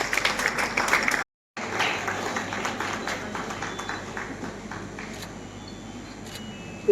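Moderate audience applause with scattered clapping at an honour ceremony for war widows in Rewari, briefly cut off by a gap, then continuing more softly and tapering toward the end.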